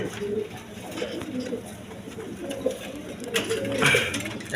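Soft, repeated pigeon coos murmur close by at a pigeon farm, with faint rustling and a few light knocks around them.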